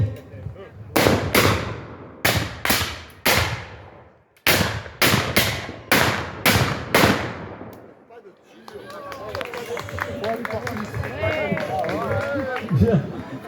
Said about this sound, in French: Et le capitaine, je pense qu'il va encore donner l'ordre de tirer.